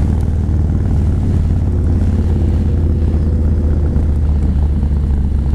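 A Yamaha Raider V-twin cruiser motorcycle engine rumbles loud and close while riding, a dense, continuous low-pitched drone with steady pulsing and no talk.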